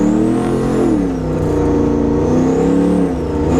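Turbocharged 1000-horsepower Trans Am WS6 engine accelerating, a loud, sustained droning roar whose pitch rises and dips as it pulls, heard from close by without talk.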